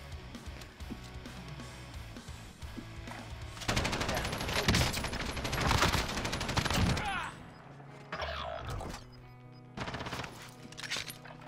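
A belt-fed machine gun with a 150-round belt fires in Warzone, sounding as long rapid bursts of loud close gunfire, pausing and resuming in shorter volleys, with faint game noise between.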